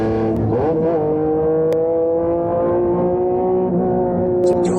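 Big-turbo Nissan R35 GT-R engines roar loudly and continuously, with a steady droning tone that rises briefly near the start and holds high, close by and alone with no talking.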